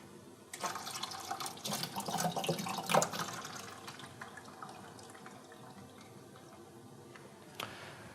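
Homebrewed beer drains from a secondary into a bottling bucket, giving a continuous splashing, gurgling pour that is busiest early on and then settles into a softer steady trickle, with no talk.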